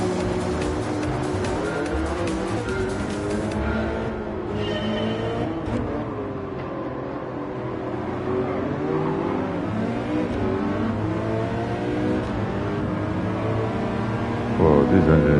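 Race car engine in the Gran Turismo 7 video game, a steady droning hum with rising and falling revs through gear changes, fairly quiet and continuous across the run, mixed with other in-game sounds.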